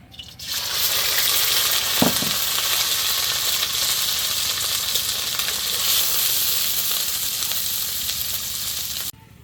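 Fish roe fries in a pan with a loud, continuous close hiss of sizzling oil that starts abruptly, holds steady with a brief knock near the start, and cuts off at the end.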